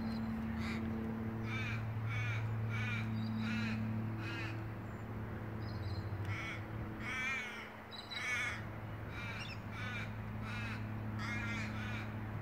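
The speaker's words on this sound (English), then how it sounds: "And now the crows are here again." Several crows caw repeatedly in harsh, rhythmic bursts across a steady hum of background noise, with a few calls overlapping near the middle.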